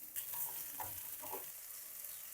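Onion, tomatoes and green chillies sauté in coconut oil for a Kerala chicken curry, giving a steady close sizzle with a few soft stirring scrapes, no voices.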